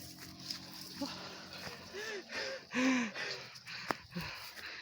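Heavy panting and gasping breaths from hikers climbing uphill through a burned grassland site in Mindoro, with rhythmic exhalations, a few loud close gasps and footsteps, no speech.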